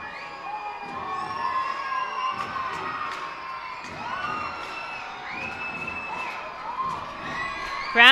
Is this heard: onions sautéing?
no